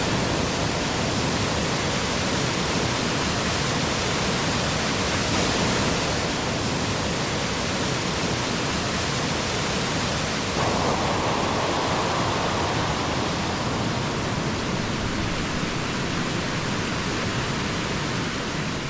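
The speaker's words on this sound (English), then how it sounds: "that stream is flowing pretty fast" A fast-flowing stream under a small bridge on a very wet valley walk gives a loud, unbroken roar of rushing water heard close up, steady throughout with no voices.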